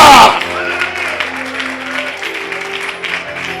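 A church congregation at a fasting prayer service bursts into loud, close clapping that fades into a sustained, softer wash of crowd noise, with a voice speaking over it.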